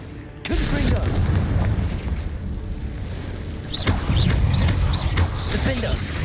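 Confringo fire spell explosions in the Hogwarts Legacy video game, a sudden loud blast followed by rumbling, crackling bursts and a second cluster of booms, with game sounds throughout.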